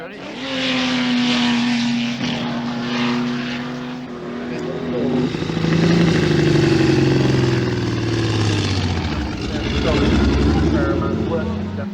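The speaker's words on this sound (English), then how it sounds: "The sound of a 5-cylinder 935." Porsche 935 race car engine running on only five cylinders after fuel to a faulty cylinder is cut, a loud rough droning roar that rises and falls in pitch, with a voice speaking over it.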